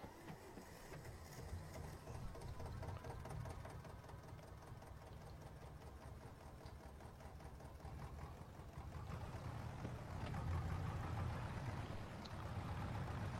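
A tractor engine in the video game Farming Simulator 22 runs as a steady mechanical drone, building louder toward the end, with no speech over it.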